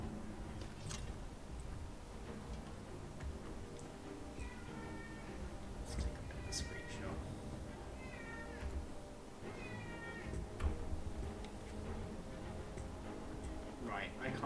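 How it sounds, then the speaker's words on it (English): A pet cat meows repeatedly for attention in short, rising calls spread across the stretch, faint and set beneath ongoing background sound. "I can hear my cat. It's demanding attention."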